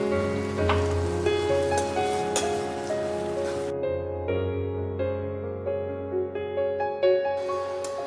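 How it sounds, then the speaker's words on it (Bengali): Masala with tomatoes fries in a pan, giving a steady crackling sizzle with little pops, heard close under a layer of tonal background music. "টমেটোগুলো দিয়ে আমি আবারও ভালো করে একটু কষিয়ে নেব"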